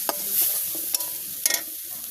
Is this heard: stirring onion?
yes